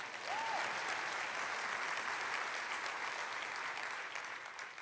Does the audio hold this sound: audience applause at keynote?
yes